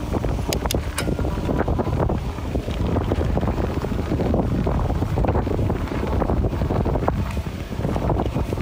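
Steady, heavy Texas wind buffets the microphone during a bike ride, a continuous low roar with gusty swells and no voices.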